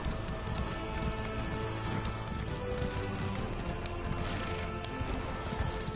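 Horse hooves trotting in Elder Scrolls Online, a continuous rhythmic clatter at moderate volume filling the scene, with no talk over it.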